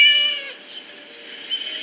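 A cartoon cat in the video game Scary Teacher lets out a couple of drawn-out, high meows, clear and close, with no one talking.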